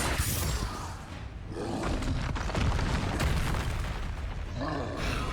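A Confringo fire spell explodes in Hogwarts Legacy gameplay, a heavy booming roar with rumbling low thuds. It holds loud through the clip, with a few pops and bursts on top and no talk.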